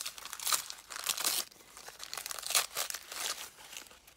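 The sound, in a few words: ripping open a candy cane sack package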